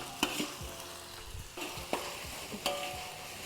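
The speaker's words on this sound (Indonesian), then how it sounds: "kita langsung campur saja daun libongganya dan ditumis sampai matang." Libongga leaves stir-fried for a Papuan highland red fruit vegetable dish sizzle steadily in a pan, with a few sharp utensil scrapes and stirring knocks spaced through it, close and without speech.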